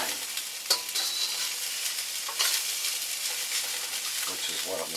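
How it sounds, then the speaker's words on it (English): Steady loud sizzling of egg and rice frying over high heat in a hot pan for fried rice, with scraping stirs and occasional crackles throughout, no talking. "Now what's happening is the egg on the rice is frying"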